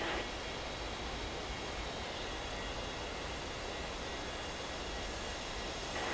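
Aircraft engine roar from a Boeing 737 or Airbus A320 taking off in the Unmatched Air Traffic Control game, a steady broadband jet rumble holding at an even level throughout with no voices.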